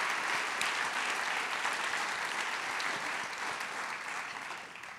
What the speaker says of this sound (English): Everyone, let's give a big round of applause